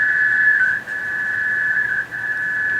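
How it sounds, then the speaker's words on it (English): A Pactor HF radio data-mode transmission plays as a steady, loud high-pitched tone that warbles slightly, with two brief dips in level, and no speech. "And here's what Pactor sounds like."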